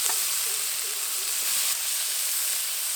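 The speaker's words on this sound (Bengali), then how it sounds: "সর্ষে ফুটতে শুরু করেছে, এবার লবণ মেখে রাখা থোরগুলো দিয়ে দেবো।" Salted banana stem pieces hit hot oil with spluttering mustard seeds and a dried chilli, giving a steady, close, loud hiss of frying with faint crackles and no voices.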